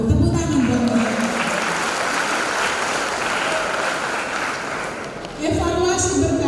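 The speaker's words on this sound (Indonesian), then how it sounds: "Tepuk tangan buat mereka" Sustained applause from a seated audience at an academic graduation ceremony, loud and dense for several seconds, with a speaker's voice over a hall microphone before and after the clapping.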